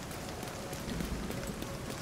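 Steady rain pattering on surfaces in The Division 2, a soft, even hiss of falling drops with faint low background rumble and no talk.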